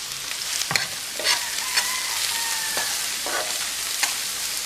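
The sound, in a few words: seasoning sizzling as it cooks in a pot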